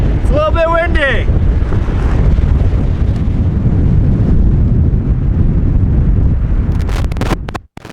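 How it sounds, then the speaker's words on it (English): Wind blows hard in the mountains, buffeting the microphone with a steady loud low roar throughout; a voice is heard briefly at the start. "It's a little bit windy."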